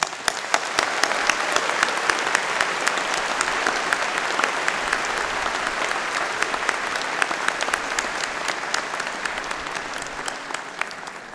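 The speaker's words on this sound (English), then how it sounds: "Please join me in acknowledging him now with a round of applause" Sustained applause from a convocation audience at a spring university graduation ceremony, a dense, steady wash of many hands clapping that carries on evenly for the whole stretch with no talking over it.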